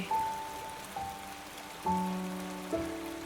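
Steady rain hisses throughout beside a stream in Mae Taeng, Chiang Mai, while a few clear ringing tones chime in at intervals and slowly fade.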